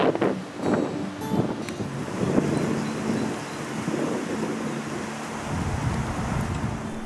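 Steady gusting wind in the south of France, near Fontaine-de-Vaucluse, buffets the microphone with a continuous low rumble and roar, no voices present.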